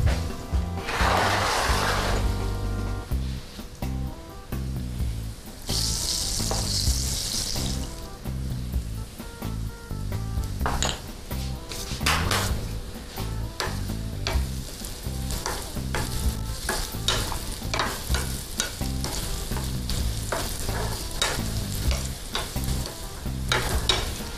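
Pieces of bread frying in a pan while being seasoned with pepper and salt give a steady, loud sizzle with stirring and scraping throughout, and no voices.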